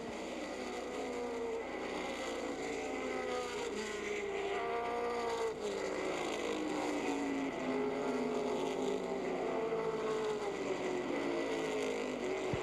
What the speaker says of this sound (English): And from the back of the pack, Bob Brevac in car 32 is picking off cars.